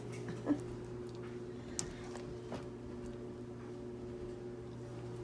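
A dog gives a brief, faint whimper near food being served in a home kitchen, with a few soft sniffing clicks over a steady appliance hum.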